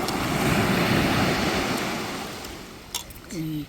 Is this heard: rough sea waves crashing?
yes